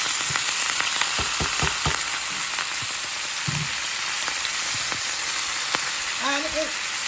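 Fresh ingredients go into hot oil with tomato paste for steamed snapper, a loud continuous sizzle and hiss with stirring clatters throughout and a brief voice near the end.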